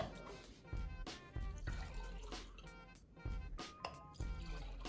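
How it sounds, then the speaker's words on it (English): Iodine clock reaction solutions are combined and stirred back and forth in a container, giving repeated close liquid sloshes and light clinks in an irregular rhythm over steady background tones. "You're gonna combine them. And you're gonna stir back and forth."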